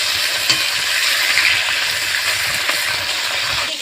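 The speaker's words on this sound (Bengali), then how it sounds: "এদিকে আমি মাছটা ভাজছি" Fish frying over high heat in hot oil, a loud, steady close-up sizzle and crackle with occasional small pops and clinks throughout, no talking.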